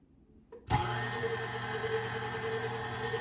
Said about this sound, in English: my little KitchenAid is doing a very good job